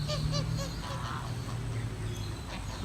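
Several geese honk nearby over a steady low background rumble, their calls overlapping in short nasal bursts.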